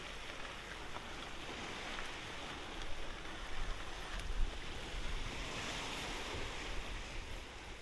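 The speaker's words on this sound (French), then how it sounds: "J'espère que vous entendez le bruit des vagues." Ocean waves near Château de Kerzo in Port Louis, Morbihan, wash steadily as a broad continuous roar of surf with slight swells, mixed with some wind, with no voices.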